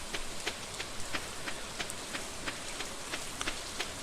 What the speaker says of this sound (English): But we really lucked out with the rainy day here.